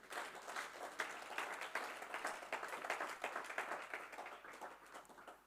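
A church congregation applauds at a prayer gathering, with sustained, dense clapping from many hands heard at a moderate distance.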